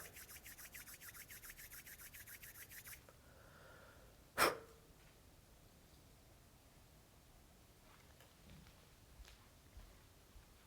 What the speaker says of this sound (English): Rub palms together at chest level.